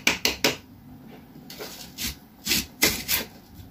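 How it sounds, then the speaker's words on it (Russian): A knife chopping an onion strikes a cutting board in uneven bursts, a few quick chops then slower ones, close and fairly crisp with quiet pauses between. "Так что лучок я режу, режу."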